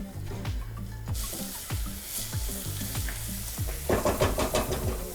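Butter sizzles in a pan over low heat, a steady frying hiss broken by soft stirring scrapes and clinks, growing busier and crackling toward the end, with no talking.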